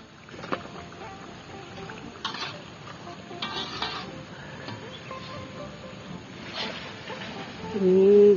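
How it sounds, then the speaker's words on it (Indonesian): Banana fritters frying in a pan outdoors by a river, a soft continuous sizzle with occasional clinks and scrapes from stirring, a voice briefly heard near the end. "Ini goreng pisang hampir matang, tinggal sedikit lagi."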